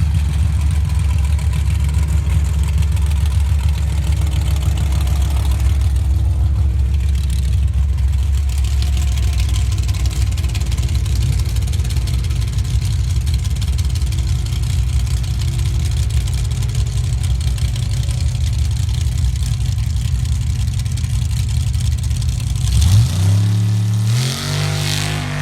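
A heavy Mopar-powered drag racing truck idles with a loud, lumpy low rumble at a drag strip, holding steady for a long stretch before revving up sharply near the end, with no talk over it.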